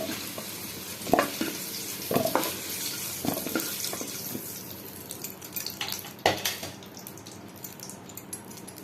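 Paneer frying in a kadai while being stirred, a continuous hiss of hot oil punctuated by sharp spoon scrapes and clatters at irregular intervals, close up with no talking.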